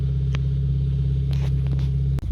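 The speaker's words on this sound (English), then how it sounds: "another freaking start on the car, but this is cold start early in the morning" A Hyundai Veloster with a modified exhaust idling after a cold start early in the morning, a loud, deep, steady rumble with a throbbing pulse, close to the car, ending in a brief dip.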